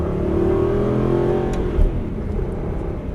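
An Aston Martin race car accelerates out of a corner, a loud, close engine drone rising and holding steady, with a brief low thump midway and no voices.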